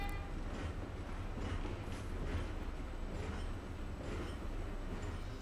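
Trains rolling along tracks in the video game Valkyria Chronicles 4, a steady rumbling clatter of rail cars with faint wheel squeal, continuous and fairly close without talk.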